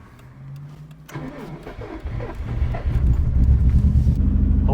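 A Subaru STI engine turns over and catches, then runs and builds into a louder low rumble as the car pulls off in first gear, the revs rising steadily toward the end.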